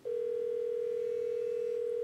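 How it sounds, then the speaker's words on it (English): An iPhone phone-call tone sounds as a single steady electronic pitch, holding unbroken and faint for about two seconds with no voices. "I'm going to give myself a phone call again."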